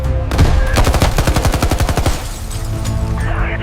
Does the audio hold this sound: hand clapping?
no